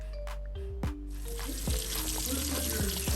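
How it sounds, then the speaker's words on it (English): Catfish drops into hot grease and sets off a loud, dense crackling sizzle that keeps going steadily after a few clanks and a low hum at the start. "we're going to fry our catfish."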